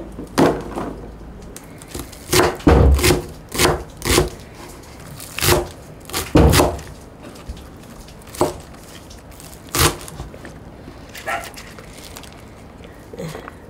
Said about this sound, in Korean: 마늘 다져